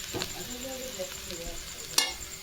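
Potato slices frying in a pan on a gas stove, a faint steady sizzle under soft stirring scrapes, with one sharp clatter near the end.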